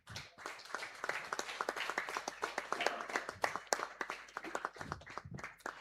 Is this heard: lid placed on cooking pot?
no